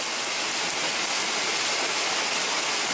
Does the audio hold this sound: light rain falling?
yes